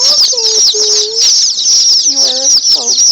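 Old English Bantam chicks peep in a brooder, close and loud, with high shrill chirps over a constant bright chatter and a few lower calls.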